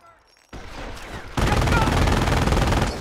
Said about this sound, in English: Your squad is taking enfilade fire from that MG